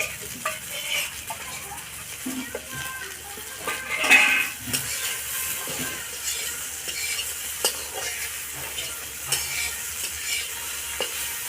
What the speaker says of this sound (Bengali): এবার ভেজে নিচ্ছি, এই তো কি সুন্দর ভাজা হচ্ছে